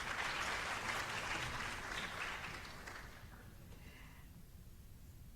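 Audience applause after an arangetram dance debut in a rented high school hall, fairly faint and distant, dying away after a few seconds into near quiet.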